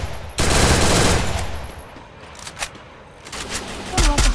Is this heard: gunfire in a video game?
yes